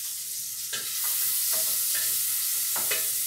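Meat and bacon searing in a pot, a constant loud hiss of hot fat with occasional spoon scrapes and clinks against the pot, no voices.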